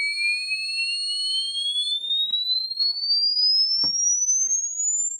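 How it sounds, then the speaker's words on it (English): An IoT noise-pollution monitor's buzzer alarm sounds as a loud, continuous electronic tone that slowly rises in pitch, with a few faint clicks in the background. "if there is loud sound, buzzer will automatically turn on"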